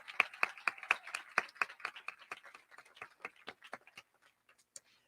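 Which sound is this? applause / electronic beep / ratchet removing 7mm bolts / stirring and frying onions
applause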